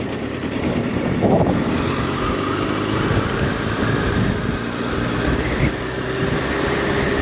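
Steady engine drone and rushing wind noise from a moving Yamaha FZ8 Fazer motorcycle, continuous and fairly loud throughout, with no talking.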